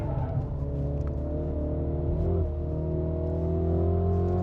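A MINI Cooper JCW engine pulls hard on a race track, heard from inside the car as a continuous, moderately loud droning rev that rises slightly in pitch, with no talk over it.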